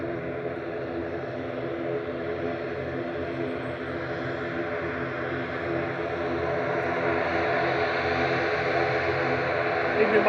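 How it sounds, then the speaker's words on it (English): An EasyJet airliner arriving from Amsterdam touches down at Manchester Airport, a steady layered jet rumble that swells gradually and grows louder near the end. "We've got EasyJet just touching down from Amsterdam, flight 2166,"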